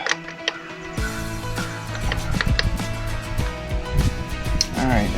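A hand wrench snugs up 13 mm bolts on a skid steer, making rapid, close ratcheting clicks and metallic ticks over a steady mechanical hum.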